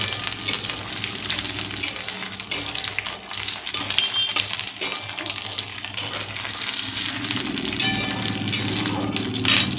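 Poppy seeds frying in hot oil for a yam and potato curry, a continuous bright sizzle with crackling bursts and occasional stirring scrapes, close and steady throughout.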